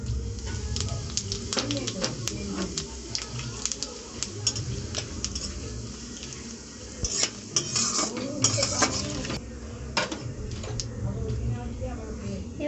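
Bay leaf, dry chili and cumin seeds crackle in hot oil as a tempering, with spoon and pot clatter and stirring scrapes throughout while a person talks over the cooking.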